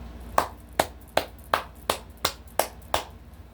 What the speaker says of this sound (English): Let me redo the clap.